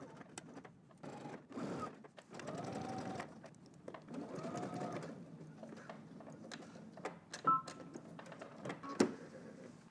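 Sewing machine basting a collar onto a garment neckline, with short stretches of close mechanical whirring and stitching interrupted by pauses and clicks, while pigeons coo softly in the background.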